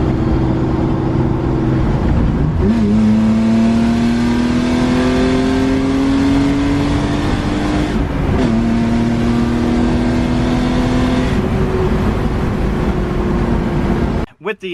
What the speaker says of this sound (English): And she's still running, and we still gonna send it.